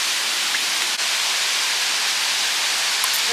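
Sea waves at a beach in Bacuag, Surigao del Norte give a constant, dense hiss of surf, broad and steady like rushing water, with a brief dip near the start and no talk.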